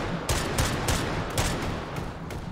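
Gunfire from skeet shooting in the VR game Hot Dogs, Horseshoes & Hand Grenades, several loud sharp shots spaced roughly every third of a second over a dense background rumble.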